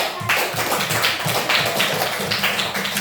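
A class of primary school children in an Indonesian classroom claps together in a rhythmic, patterned beat, with sharp, close hand claps repeating in quick groups.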